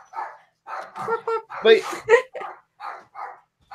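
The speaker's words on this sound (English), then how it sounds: "is that my dog?" A dog barks several times in short, spaced bursts during a podcast-style recording, its yaps and bow-wows mixed in with people talking nearby.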